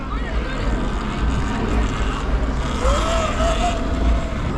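Truck carrying sheriffs rumbles along a street during a federal raid amid protesters, a steady low engine drone with traffic noise and a rising whine, while someone talks close by.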